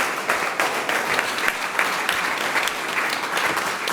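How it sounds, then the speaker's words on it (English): An audience at an evening conversation event in Indianapolis claps in sustained, dense applause, moderately loud and steady throughout, with no voices over it. "let's give them another round of applause."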